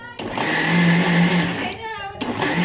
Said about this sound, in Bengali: তো মিক্সারটা আমি ঘুরিয়ে নেবো